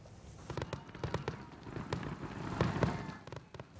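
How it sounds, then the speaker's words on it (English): Fireworks at a farewell concert in Coventry, distant crackling and popping bursts in rapid irregular succession over a low crowd rumble. "Fireworks went off as the band got ready to do its final set."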